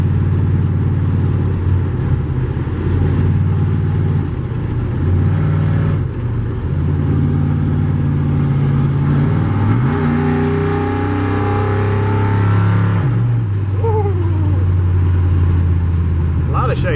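A car with a shaking front end idles and rumbles on its first test drive after its first fire, its steady low engine drone shifting as it moves, with someone talking over it.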